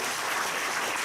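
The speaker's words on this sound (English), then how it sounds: "let us give a very good round of applause to because our guest today" Audience applause for guests at a talk session, a short, even burst of clapping filling the space at moderate level with no voices.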